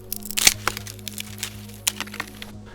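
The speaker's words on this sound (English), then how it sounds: "and finally crafting a hand drill" Crafting a hand drill in the video game DayZ gives a scattered run of sharp wooden cracks and snaps, the loudest near the start and the rest lighter and irregular, close up over a low steady hum.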